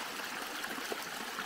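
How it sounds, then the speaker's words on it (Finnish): Waterfall found on a hiking trip pours and rushes steadily, a close, continuous broadband wash of flowing water with no talk over it. "Ja löydettiin vesiputous!"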